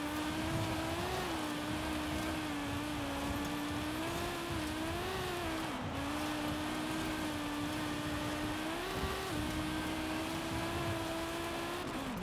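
An Audi Quattro S1 engine held at full throttle in the video game Forza Horizon 5, a steady loud rasping drone with small pitch wobbles and a brief dip during gear changes, heard alone without talk.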